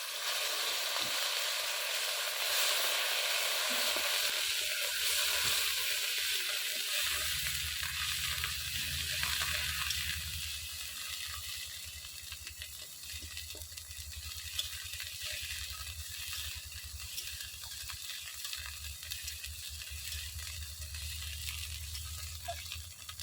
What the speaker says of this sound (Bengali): এই মাছ ভাজার তেলে ফোড়নের জন্য দিয়ে দেবো গোটা জিরে দিয়ে দেব পেঁয়াজ আর কাঁচা লঙ্কা বাটা